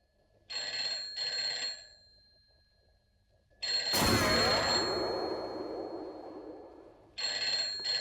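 A telephone rings in repeated short electronic bursts with pauses between, interrupted midway by a loud clanging crash that slowly decays.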